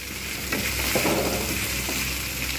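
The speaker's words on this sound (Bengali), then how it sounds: "আমি এগুলো একসঙ্গে পেঁয়াজ, কচু এবং আলু আমি একসঙ্গে খুব ভালোভাবে ভাজবো।" Taro, potato and onion fry together in oil in a pan with a loud, steady sizzle close by and occasional stirring bursts, with no speech.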